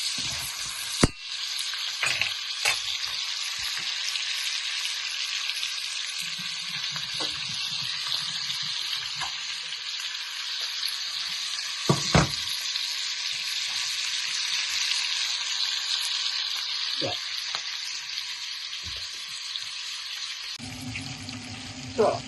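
Mutton chops fry in a pan for a mutton chop curry, a steady broad sizzle running throughout with occasional sharp clicks and stirring clatters, plus a brief lower burst near the end.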